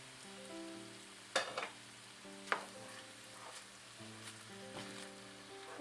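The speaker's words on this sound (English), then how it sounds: "Go ahead and add your onions and everything to your meat." Onions and meat sizzle steadily in a pan on a home stove, with a few sharp clanks and scrapes of a spoon as they are stirred, close up with soft music underneath.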